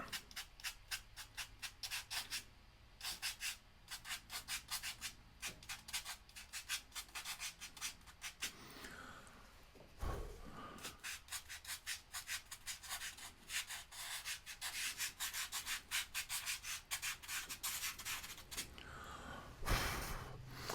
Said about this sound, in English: Let me scrub that in the sky.